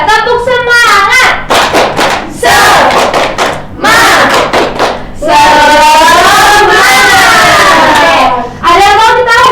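Classroom of primary school children led by a teacher in a rhythmic clapping chant, loud close voices shouting counted words in unison with sharp hand claps in repeated bursts.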